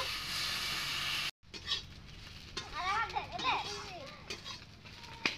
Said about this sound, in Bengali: এখন আমি নাড়িয়ে চাড়িয়ে ভালোভাবে আমি ভাজে নেব।